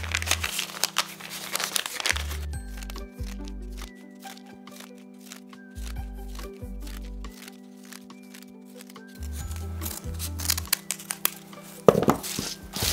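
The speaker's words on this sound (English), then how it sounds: "So you can use the rest of the paper bag. You can just cut that up and turn it into some straw" Scissors cutting up a paper bag into pieces of straw for a Christmas nativity craft, with rustling, crinkling and snipping sounds close by, in short bursts with brief pauses.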